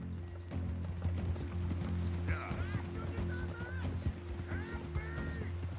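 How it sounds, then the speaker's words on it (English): A horse's hooves clip-clop at a steady pace in the Red Dead Redemption 2 video game, with brief whinnies rising over the hoofbeats and background game ambience. "Come on, horse."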